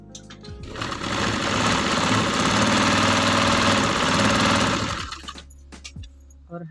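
A sewing machine stitches a trouser waistband in one continuous whirring run of about four seconds that swells and fades, followed by quiet clicks and fabric handling.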